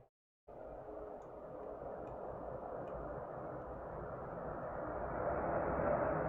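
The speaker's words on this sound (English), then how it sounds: "Can you hear that? That's an airplane outside. That is so loud." A loud airplane passes overhead outside, its broadband roar starting abruptly after a brief silence and swelling steadily louder toward the end.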